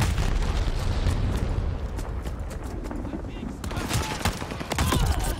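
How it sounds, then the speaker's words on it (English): In Call of Duty Vanguard, loud dense blasts and rumbling explosive noise from an incoming glide bomb strike mix with gunfire, with heavy bursts near the end and game voice lines over it. "enemy glide bomb coming in hot."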